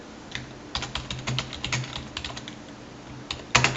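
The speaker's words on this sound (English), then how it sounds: "he starts typing here" Close, quiet typing on a computer keyboard: irregular runs of soft key clicks with brief pauses and a louder tap near the end.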